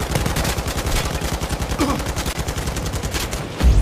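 Loud, rapid automatic gunfire in the Blood and Truth video game, a steady rattling stream of close shots with a heavier impact at the end.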